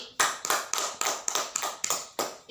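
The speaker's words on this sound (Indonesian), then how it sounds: "Tepuk tangan untuk Mbak Zaski" A classroom group claps in a quick run of about nine sharp, evenly spaced claps, loud and close, with no talking.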